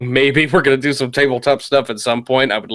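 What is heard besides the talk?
No everyday noise stands out behind the speech.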